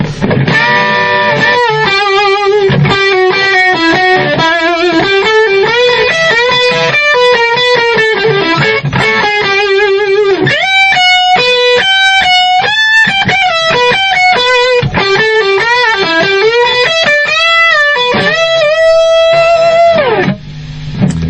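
A distorted electric guitar plays a solo, loud and sustained single-note melodic lines with bends and held notes flowing continuously for about twenty seconds, with no voice over it.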